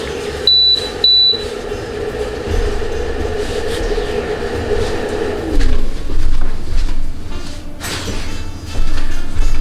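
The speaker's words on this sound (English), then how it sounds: "When the cappuccino part is done, it always does a beep, which you just heard." A Keurig coffee machine sounds two short, clear electronic beeps near the start to signal that a salted caramel cappuccino is done, set against a steady low hum and rumbling background noise.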